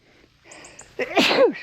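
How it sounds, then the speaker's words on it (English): A single sharp sneeze bursts out after a brief indrawn breath, close and fairly loud in a quiet setting. "I gotta sneeze."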